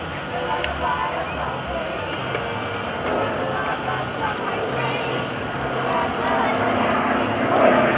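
At the 2012 JB McGuire-Dix-Lakehurst open house airshow, an FG-1D Corsair propeller airplane passes with a steady, rumbling engine drone that swells toward the end, under an announcer's continuous talk.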